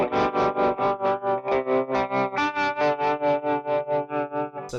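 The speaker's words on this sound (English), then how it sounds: "So that's vibrato into tremolo" Electric guitar through a modulation pedal with vibrato routed into tremolo, strummed chords throbbing in rapid, regular volume pulses with a slight pitch waver, loud and up close with no speech.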